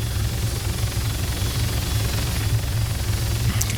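A helicopter in the video game ARMA 3 flies with a steady, low rotor drone and a constant rumbling hum. The engine sound is unbroken and moderately loud, and no one speaks.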